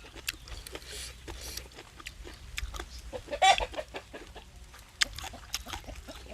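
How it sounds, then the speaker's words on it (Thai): Chickens cluck and peck around a rural Thai outdoor kitchen, a scatter of sharp short clucks and calls over a low background murmur, one louder burst midway, with faint voices. "ไก่"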